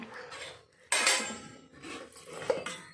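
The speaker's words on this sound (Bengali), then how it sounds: "এই যে আলু উচ্ছে চচ্চড়িটা ঢাকা দিয়ে দিই" A pot lid clanks down onto a pot of potato and bitter gourd curry, one sharp metallic clatter followed by a few lighter clinks of cookware in a quiet home kitchen.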